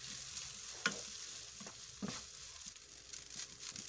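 Boiled rice being stirred and fried in a pan, a soft continuous sizzle with a few scraping stir strokes of the spoon, close and quiet.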